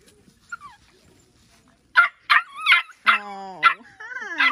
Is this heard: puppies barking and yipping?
yes